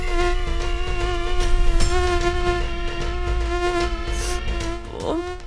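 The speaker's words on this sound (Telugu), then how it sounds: "దోమలు వచ్చేసినట్టున్నాయి" Mosquitoes whine in a loud, steady, close buzz with a sustained pitch, lasting throughout with no talking, one brief rustle near the end.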